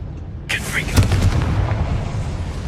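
A Confringo explosive spell cast in Hogwarts Legacy lands as a sudden fiery burst, then a second, sharper blast right after, with a rumbling tail that lingers as a voice speaks over it.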